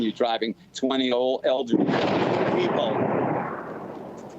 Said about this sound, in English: We heard it, the explosion right there